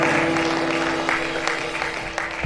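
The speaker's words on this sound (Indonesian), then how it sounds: "Beri tepuk tangan bagi Tuhan kita" Applause from a gathered church congregation during worship, a steady patter of clapping with a faint sustained tone running underneath.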